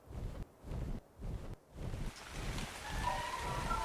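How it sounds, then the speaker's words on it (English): Rain falling in ARK Genesis 2 as a soft, fairly quiet hiss that pulses in gusty waves at first, then settles into a steadier wash. "Oh, it rains."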